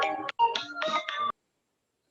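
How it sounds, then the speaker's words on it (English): A phone ringtone goes off during an online art class, a short melodic tonal phrase of several notes sounding clearly and then stopping, followed by silence and a faint restart at the end. "Everybody's phone."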